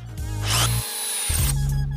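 An electric drill bores a hole in a bulb holder, whining loudly up close with a steady rising and falling motor pitch over about two seconds.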